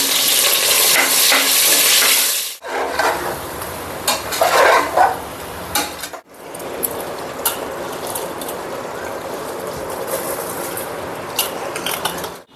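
Ingredients for coconut-milk mushroom biryani fry in a pan, a steady loud sizzle broken by stirring and clinks of a spoon against the pot, with brief pauses between bursts and no talking.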